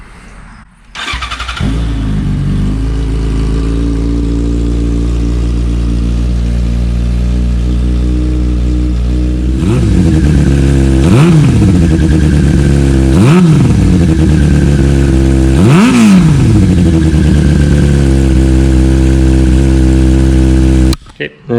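A Yamaha R6 sport bike with a shorty Micron exhaust cold-starts and settles into a loud, steady idle, then three sharp throttle blips rev up and drop back, close to the bike.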